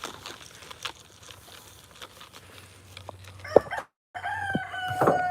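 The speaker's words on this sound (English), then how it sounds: "Chickens are bugging out." Backyard chickens cluck and a rooster crows, scattered clucks giving way to a loud, drawn-out crow near the end, with a dog and other birds in the background.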